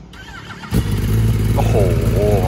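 A motorcycle engine fires up with a sudden loud catch and settles into a throaty, close running rumble with a couple of quick revs near the end.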